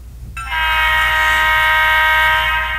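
Model train sound decoder playing an RS3L diesel locomotive horn: after a quiet rumble, a loud, sustained chord-like blast starts and holds steadily to the end, alone without talk.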